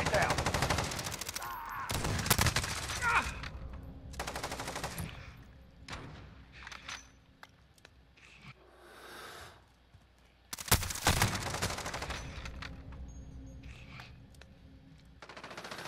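Bursts of machine gun fire in an online shooter video game, heavy rattling volleys in several clusters with quieter shots and effects between them, mixed with game voices calling out.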